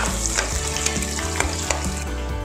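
Egg scrambled and fried in a pan, bhurji style, for egg fried rice: a loud continuous sizzle broken by repeated spatula scrapes and clicks, with no talking.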